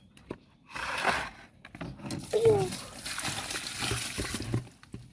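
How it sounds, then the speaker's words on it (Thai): Water is poured out of a shrimp tank in splashing, gurgling bursts that pour and trickle for several seconds, close by, with light knocks and faint background noise. "แล้วก็จะเทน้ำอันนี้ทิ้งไปเลย"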